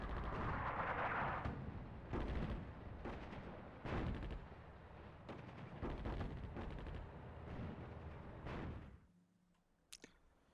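Artillery and gunfire in the North Africa war game Attack at Dawn form a dense, continuous roar of booming shots and rumbling blasts that breaks off suddenly into near silence, followed by a couple of faint clicks.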